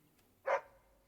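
A single short dog bark from a puppy in the fantasy role-playing game Dragon Age: Origins, one clear yip that stands alone against a quiet background.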